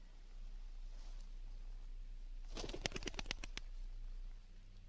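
Under faint steady background noise, a game bird's burst of rapid fluttering wingbeats sounds near the middle of the clip during a pointing dog drill, then quiet returns.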